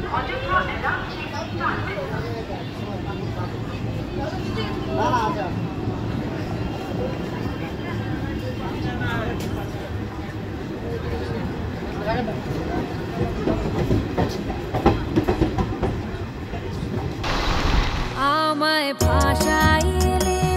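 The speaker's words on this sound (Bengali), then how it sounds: "ট্রেন ছাড়লো পাকুড়" Tebhaga Express pulling out of Pakur station, a steady broadband rumble of rolling wheels and carriage noise held loud and continuous throughout, with a voice talking over it.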